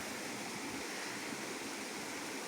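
Steady broadband rush of water pouring through the stone channel of a traditional Asturian watermill in Villaviciosa, continuous and fairly close with no voices over it.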